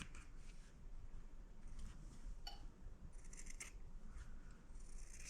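Scissors trim quilt fabric for a crazy quilt jacket, a faint series of short snips and soft rustles, close by over a low steady hum, with no talking.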